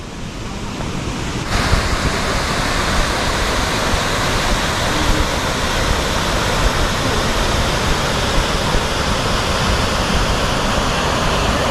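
Mayang Falls waterfall heard up close as a loud, dense, continuous roar of rushing water that swells after the first second and holds steady, with wind buffeting the microphone.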